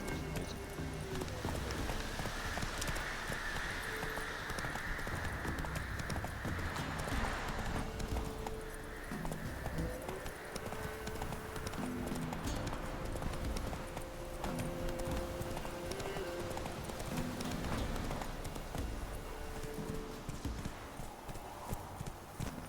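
Roach the horse galloping in The Witcher 3, with rapid rhythmic hoof clip-clops running throughout over game ambience and music, plus occasional snorts and background voices.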